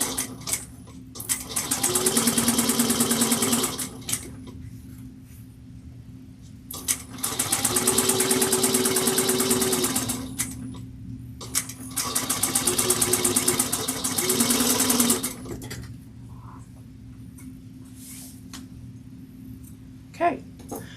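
Sewing machine back stitching a 3/8 inch seam on a bowler bag, three loud bursts of fast stitching separated by quiet pauses, with a faint steady hum underneath.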